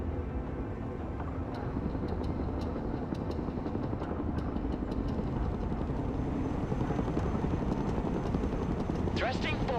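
A Chinook helicopter in the video game Broken Arrow, a steady, loud rotor drone with a continuous low rumble, joined by brief clicks and a short radio-like voice burst near the end.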